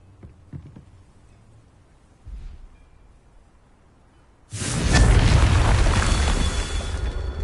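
A Confringo blasting spell explodes in Hogwarts Legacy: after a quiet lead-in with a small thump, a sudden loud burst erupts into a sustained crackling, roaring blast that fills the last three seconds.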